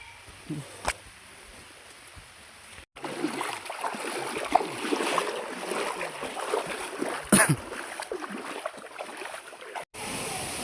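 Rain falls steadily on the way to Boaliya waterfall near Sitakund, a soft broadband patter and splash that swells after a quiet start, with a few brief louder bursts.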